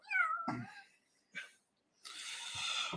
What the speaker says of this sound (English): So we have kittens.